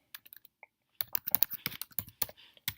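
Someone types an email address on a MacBook keyboard. Light, close key clicks come first as a few sparse taps, then as a quick, fairly continuous burst of strokes, with no talking.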